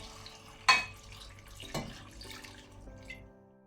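Coconut milk from one medium-sized coconut poured into a pot of mixed vegetable prawn curry, a soft liquid splash with a few sharper clinks against the pot, close and quiet with no talking.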